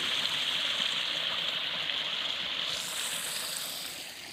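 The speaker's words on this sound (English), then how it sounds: "You could sit here and the only thing you hear is the creek." A creek flows steadily with a constant broadband rush of water, close and fairly loud, gradually easing slightly toward the end; no voices.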